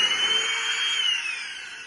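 A Prettycare W400 cordless vacuum cleaner runs with a steady, loud high-pitched whine and airy motor roar, holding constant before easing slightly toward the end, with no talk.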